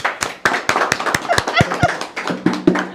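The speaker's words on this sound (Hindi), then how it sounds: "विकास सर के लिए जोरदार ताली हो जाए जितने लोग हैं।" A small group claps to welcome a guest at a classroom-style student gathering: a run of sharp, separate handclaps, close and fairly loud, with faint voices underneath.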